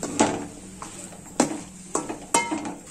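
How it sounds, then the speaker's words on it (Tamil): Chicken curry pieces fry in oil with garam masala for a village-style chicken kuzhambu, with a spatula scraping the pan in about four sharp strokes over a soft, steady sizzle. "இந்த கறி வந்து அந்த எண்ணெயிலே கொஞ்சம் நேரம் வதங்கட்டும்."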